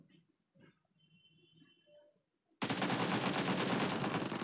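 Burst of sustained automatic gunfire in PUBG Mobile bursts in loud and dense after a stretch of quiet game sounds and faint voices, continuing without pause to the end.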